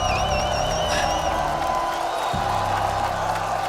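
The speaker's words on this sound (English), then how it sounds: "Continuez d'applaudir Hydra, s'il vous plaît." Esports crowd at a Call of Duty: Black Ops 7 Esports World Cup final in Paris cheers and applauds steadily, a loud dense wash of claps and whoops with whistles near the start.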